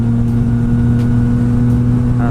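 Yamaha XSR900 motorcycle from 2016, its engine droning loud and steady close by under heavy road and wind rumble while riding on a commute.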